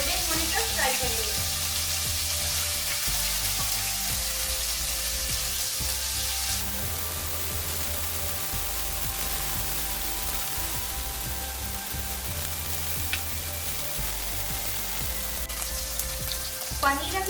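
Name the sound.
paneer frying in hot oil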